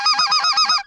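Geese honking on a waterfowl hunt: a rapid, close, loud series of about six nasal honks in a one-second burst, no talk.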